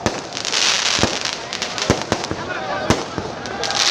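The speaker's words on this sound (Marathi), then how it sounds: "फक्त फटाके थांबवण्यात यावे" Firecrackers go off continuously at a political rally, a dense crackling with sharp loud pops scattered throughout, while someone speaks over a loudspeaker beneath the noise.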